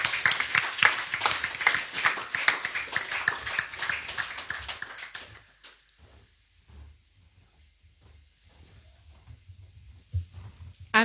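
Loud, sustained applause from a church congregation cheering the Lord fills the first half, then cuts off and leaves near silence with a few faint thumps.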